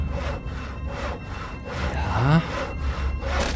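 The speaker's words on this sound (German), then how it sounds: "Ach nee, wir haben es zersägt." Sawing through a wooden board in the Penumbra video game, with steady back-and-forth rasping strokes in a regular rhythm, close and fairly loud, and a brief spoken word partway through.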